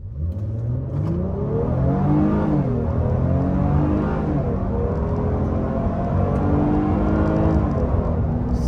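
A 2025 Honda Pilot Touring accelerates hard from a standstill to 55 mph, the engine note climbing steadily through several gear shifts with a clear drop in pitch at each one, loud and continuous from inside the cabin, with no talking.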